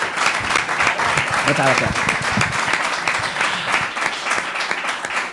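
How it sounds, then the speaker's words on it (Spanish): An audience applauds at the opening of a cultural week at a republican athenaeum, a sustained wash of clapping with a voice speaking briefly over it partway through. "Un aplauso, por favor, a la Semana Cultural del Ateneo."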